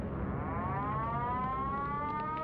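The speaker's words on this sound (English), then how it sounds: "we heard the air raid sirens going" A wartime air raid siren wails continuously, its rising, harmonic-rich tone sustained and steady at a moderate distance, with no voices.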